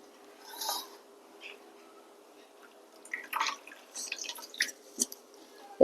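Water dripping from squeezed ash gourd, salted and mixed with turmeric, into a strainer: a few faint, scattered drips and soft wet splatters in a quiet kitchen, irregular and close.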